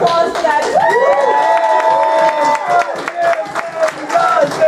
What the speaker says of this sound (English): Just give a round of applause for that